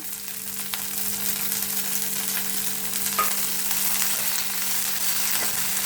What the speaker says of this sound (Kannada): ಕೊತ್ತಂಬರಿ ಸೊಪ್ಪು, ಪುದೀನ ಸೊಪ್ಪು ಹಾಕ್ತಾ ಇದ್ದೀನಿ. ಇದನ್ನು ಸ್ವಲ್ಪ ಫ್ರೈ ಮಾಡ್ಕೊಳ್ಳೋಣ.